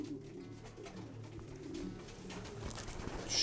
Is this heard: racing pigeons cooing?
yes